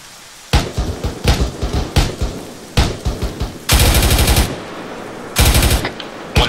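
Machine gun fire in the ARMA 3 military shooter, with rapid bursts of loud automatic shots, some short and spaced, others long sustained strings, heard without talk.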